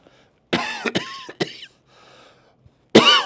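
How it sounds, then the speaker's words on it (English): Several harsh coughs and throat-clearing bursts, close and loud, with short pauses between them. "got him coughing"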